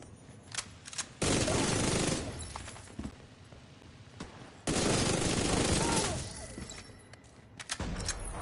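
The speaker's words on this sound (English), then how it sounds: "Shoot anything that moves!" Automatic gunfire from The Division 2 video game comes in two long, loud sustained bursts, separated by quieter stretches of isolated shots and ambient noise.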